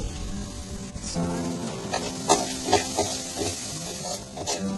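Cluster beans frying with turmeric and salt in a pan, a close sizzle broken by repeated scraping and clinking stirs in an uneven rhythm.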